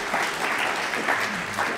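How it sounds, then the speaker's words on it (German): An audience at an anniversary celebration of a political foundation gives steady, close applause, dense continuous clapping filling the short stretch. "da machen wir natürlich nochmal einen Applaus"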